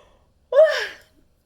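A single person's yawn, a half-second voiced breath that rises then trails off, close and alone in a quiet room.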